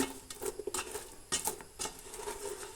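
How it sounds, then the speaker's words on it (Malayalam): A spoon scrapes and knocks around a pan, stirring flour in while making sharkara varatti, in short irregular strokes close by with no talk. "നല്ലതുപോലെ ഇളക്കി ഒന്ന് യോജിപ്പിക്കണം"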